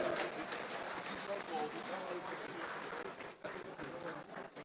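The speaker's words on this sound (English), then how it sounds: "Please clap for him. Clap again." A convocation ceremony audience at a Nigerian university applauds Senator Godswill Akpabio, a dense, steady roar of many hands clapping in a large space, with crowd voices mixed in.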